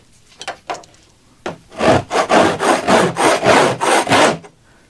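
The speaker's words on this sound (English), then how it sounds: "let me get a scraper and see how easy or how hard this scrapes" A metal scraper drags across an old fiberglass boat lid in a run of about eight steady rasping strokes, close and loud, after a few short scrapes and taps.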